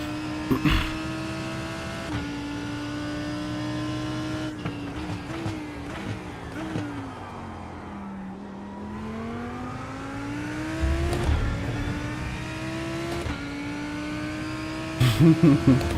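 Race car engine in iRacing at Portimao revving hard, pitch climbing and dropping through repeated downshifts with popping kickback, loud and continuous for the whole stretch, with a speaking voice underneath.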